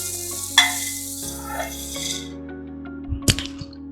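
Fried flattened rice (aval pori) stirred in a hot pan, a soft dry rustle and light sizzle with a few metallic clinks over a steady low hum.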